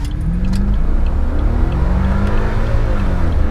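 A 2003 BMW 745i E65 V8 engine revs and accelerates with a deep, throaty roar, rising in pitch steadily and heard loud and close throughout, with the window open.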